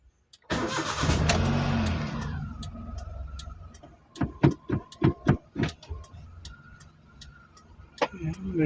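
A manual Hyundai Eon's engine cranks and catches, then settles into a steady idle, followed by a run of rhythmic clunking thumps nearby, with a short burst of noise near the end.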